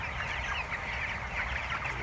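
A flock of chickens in a poultry house clucks continuously, a dense overlapping chatter of many birds at a moderate, steady level with no talk.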